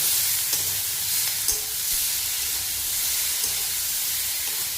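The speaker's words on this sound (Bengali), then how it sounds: "এই মশলার মধ্যে আদা, জিরে, লঙ্কা সব রকম পেস্ট করা আছে। তো আমি এই মশলাটা দিয়ে দিলাম। দিয়ে এবার আমি একটু নাড়াচাড়া করে নেব।" Ginger, cumin and chili spice paste sizzles and fries in a hot pan while being stirred, a steady close hiss with faint scraping touches throughout.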